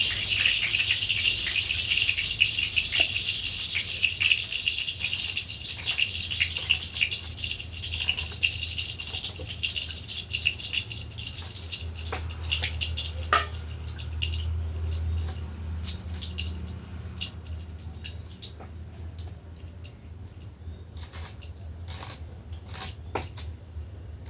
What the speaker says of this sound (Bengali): তেলের মধ্যে জল পড়েছে দেখুন